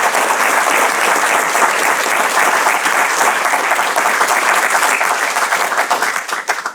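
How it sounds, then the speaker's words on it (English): An audience at an evening youth talks event applauds loudly and steadily, a dense wash of clapping that holds for several seconds before starting to thin out near the end. "can we please have a massive round of applause for this amazing group of youth?"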